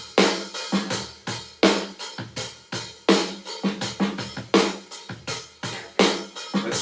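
Drumgenius pop drum loop number 10 plays alone: a steady, punchy pop beat of kick and crisp snare with bright cymbal hits repeating in an even groove, close and clear.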